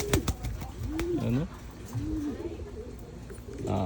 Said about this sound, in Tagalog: gustong gusto na lumabas mga kalapatids